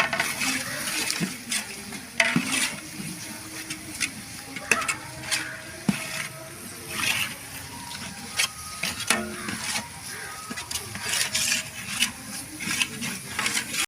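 Chili powder stirred into a tomato masala for a large beef dum biryani, a spoon scraping and clinking against the pot in steady strokes over a low background hiss, with no talking.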